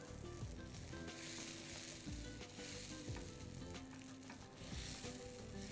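Tomato sauce being stirred in a pan, with a steady sizzle and repeated scraping strokes of the spoon, close and continuous, no voices.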